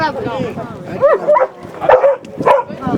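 A trained dog at a working-dog demonstration gives several close, sharp yips and whining barks in short bursts, with a voice speaking in between.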